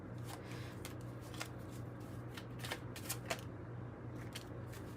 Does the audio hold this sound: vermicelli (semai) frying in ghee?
no